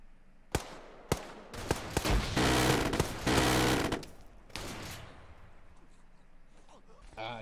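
Frag grenade blast in ARMA 3 among close gunfire: sharp single shots, then a loud roaring burst of explosion and rapid fire lasting a couple of seconds, fading into a low rumble with scattered later shots.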